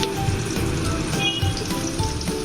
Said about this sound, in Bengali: এখন আমি এগুলোকে নাড়িয়ে নেব মিডিয়াম লো ফ্লেমে নিয়ে ভেজে নেব